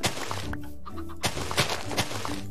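Chickens cluck in a video game village in short, close, choppy calls with a few soft thunks mixed in.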